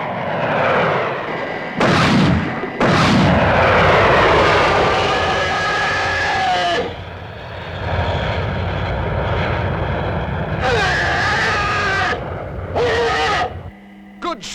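Gunfire aimed at alligators in a Thunderbirds episode, loud bursts of shots cracking over a continuous roar of aircraft engines, with brief gaps and a fading end.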